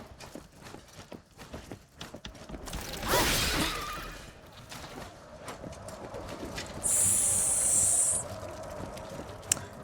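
An enemy's spray attack in the video game Wo Long: Fallen Dynasty lets out a sharp hissing burst, followed later by a second steady high hiss, amid clopping hoof-like footsteps and game effects.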